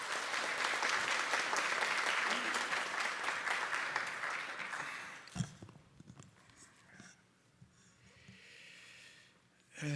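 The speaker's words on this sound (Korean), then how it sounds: "우리 전사님 나오실 때 따뜻한 환영의 박수 부탁드립니다." Warm welcoming applause from a church congregation rings out loudly for about five seconds, then cuts off abruptly, leaving quiet room sounds, shuffling footsteps and a few soft thumps.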